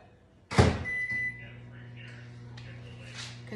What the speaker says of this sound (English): So I'm gonna put this in the microwave for a minute or so.